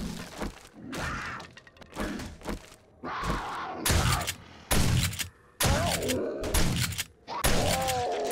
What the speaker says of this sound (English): So we'll just unload with him on our shotgun and then make sure everything else is loaded.